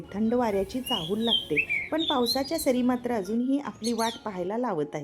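Morning birds chirp and tweet in the background while a person talks steadily over them for the whole stretch.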